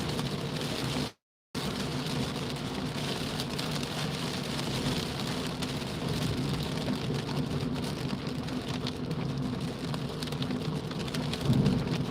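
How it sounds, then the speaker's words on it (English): Heavy rain drums steadily on a moving car on a very wet day in Wigan, a dense continuous wash with low road rumble, broken by one brief dropout near the start. "This is the kind of rain I was in before"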